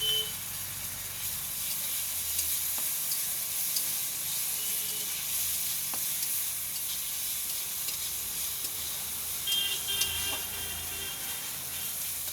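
Garlic-ginger paste hits browned fried onions in hot oil, giving a continuous soft sizzle and hiss with a few faint clinks, close by and fairly even throughout, no talking.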